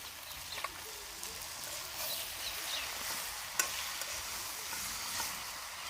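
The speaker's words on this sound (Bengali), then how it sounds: "আমি এবার জিরের গুঁড়োগুলো দিয়ে হালকা নেড়ে চেড়ে নামিয়ে নেব।" Cumin powder stirred into a cooking dish in a pan, giving a quiet continuous sizzle with light scraping and occasional soft clicks of the utensil, and no talk.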